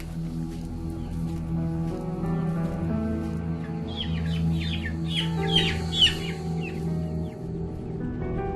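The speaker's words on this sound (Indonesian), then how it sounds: "Main banget tuh ayam jam segini malam-malam berisik." Chickens clucking at night, a cluster of brief, excited clucks rising midway over a steady low hum, moderately close.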